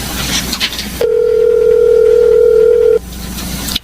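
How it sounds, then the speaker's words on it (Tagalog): A cellphone call rings out as a single steady electronic tone lasting about two seconds, loud and clear, set against a quieter room background before and after. "Tatawagan ko si Inay. Sana sagutin niya ang cellphone."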